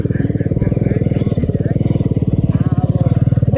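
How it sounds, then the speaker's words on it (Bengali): A Honda motorcycle comes up close, its engine a loud, steady low putter with fast regular pulses throughout, with faint voices in the background. "হুন্ডা আসতেছে।"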